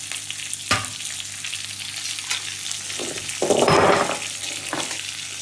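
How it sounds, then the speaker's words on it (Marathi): Onion frying in a pan with asafoetida, sizzling steadily near the mic, with clatters of stirring and a louder crackling burst partway through; no talking. "तर कांदा भाजून घ्यायचा"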